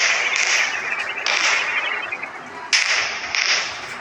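A tank fires in the Indian Bikes Driving 3D mobile game, giving sharp, whip-like cracks followed by hissing blast noise. The bursts repeat several times over a few seconds, loud and close.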